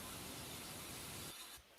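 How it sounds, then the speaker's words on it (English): Steady rain hiss, dense and even across the clip, fading and thinning out near the end as if a recording is switched off. "Right now we got rain, I think."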